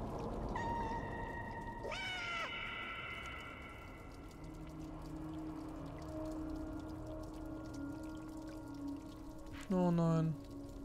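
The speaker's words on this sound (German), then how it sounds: "Jetzt hören wir es hier noch miauen." A kitten meows in the video game Stray, with a few short, high cries near the start and another louder meow toward the end over a quiet ambient hum.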